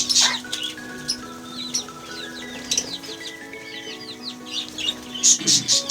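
Small bird chicks in a cage chirp in quick, high, overlapping peeps, with a few sharper, louder calls and brief fluttering near the end, close by and without talk.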